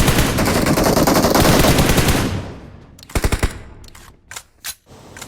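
Rapid automatic gunfire in the mobile battle-royale game BGMI while taking down an enemy, a loud sustained burst followed by a few shorter separate shots, with no talking.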